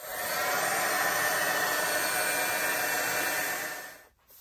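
A heat tool dries paint splatters on an art journal page, blowing a steady loud whooshing hum for about four seconds before cutting off abruptly, with no speech.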